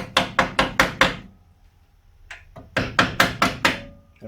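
A tool used as a hammer strikes a Honda CB750 K2 motorcycle part. Two bursts of five sharp, loud metallic knocks come in a quick even rhythm, separated by a pause with a faint clink.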